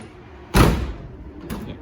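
A Ford Mustang door shuts with one solid, close thud that rings briefly, followed by a fainter secondary knock about a second later.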